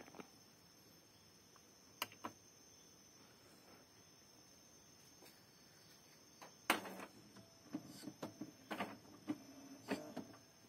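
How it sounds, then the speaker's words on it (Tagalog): A quiet room with soft hiss, then a series of mechanical clicks, whirs and short motor bursts as an Epson L5290 inkjet printer with an error starts up, fairly close. "And turn on the printer."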